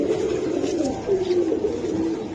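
Giribaz pigeons coo in low, rolling murmurs that run steadily and close by, with no talk over them.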